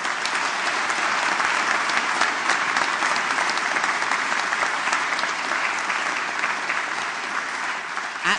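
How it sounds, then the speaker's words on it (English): A graduation audience at a School of Law ceremony gives a sustained round of applause, dense and loud clapping from a large crowd filling the hall evenly throughout. "can we have another round of applause for them"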